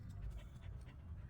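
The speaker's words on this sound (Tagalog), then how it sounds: "Yan ang mga aso ko. Naghihingal na sila." Two dogs panting quickly and rhythmically up close on a hot day outdoors near a grill, steady breathy huffs with no talking.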